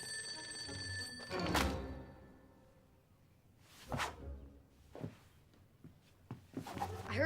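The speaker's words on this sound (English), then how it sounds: "Oh, the phone." A telephone rings indoors in a film comedy scene, a bright bell tone carrying over the first second, followed by a few scattered thumps and swishes at moderate volume.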